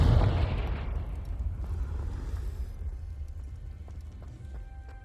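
A Confringo fire spell bursting in the Hogwarts Legacy video game, a loud booming blast up front that rolls into a long rumbling decay and fades out.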